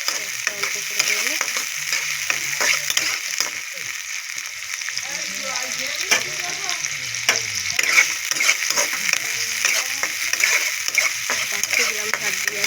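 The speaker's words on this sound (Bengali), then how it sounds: "দেখতে থাকো, ঝাল ঝাল মুরগির হাড্ডি রান্না" Spicy chicken bones frying in a pan as they are stirred, a steady sizzle with scraping stir strokes and splatters coming through close, while a voice speaks now and then over the cooking.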